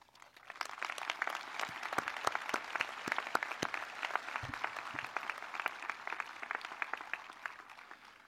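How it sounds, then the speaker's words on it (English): A large audience at a high school graduation claps steadily and densely for several seconds, the crowd's applause moderately distant and sustained without cheering. "This is indeed worthy of applause."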